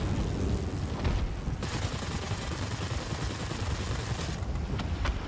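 Machine guns on a Curtiss P-36C Hawk fighter, flying over the desert in World of Warplanes, fire in a continuous loud, dense burst with a rumbling low end, running unbroken throughout.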